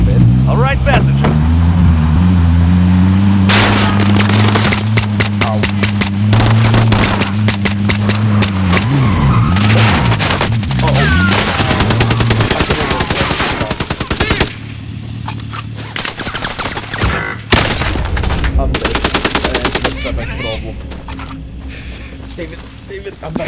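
Dense automatic gunfire during a Call of Duty Gulag match, with loud rapid bursts and scattered single shots over a droning vehicle engine, as voices talk throughout.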